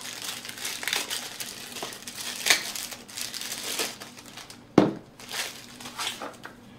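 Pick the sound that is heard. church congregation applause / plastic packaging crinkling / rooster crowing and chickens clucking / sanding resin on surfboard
plastic packaging crinkling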